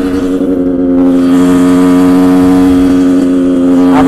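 Yamaha YZ 85cc two-stroke motocross bike from 2009, rated around 30 hp and not in perfect condition, held at high revs with a loud, sustained, buzzing engine note close by throughout.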